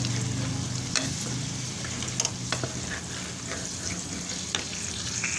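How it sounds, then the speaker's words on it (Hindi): Potatoes frying in ghee, a steady close sizzle throughout with occasional light taps and scrapes of stirring, no talking. "घी में मैं आलू घाल दूँगी"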